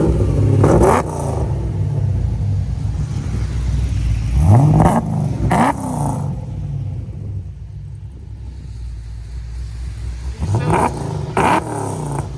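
A lumpy, choppy idle from a supercharged V8 with an aggressive cam in a Chevy Camaro SS with long tube headers rumbles steadily, broken by several sharp throttle blips that rise and fall; close and loud.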